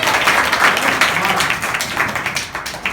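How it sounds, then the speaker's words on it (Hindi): A group of schoolchildren in a classroom clapping for themselves, a close, dense patter of many hands that fades slightly toward the end, with some voices mixed in. "अब ताली बजाओ अपने लिए।"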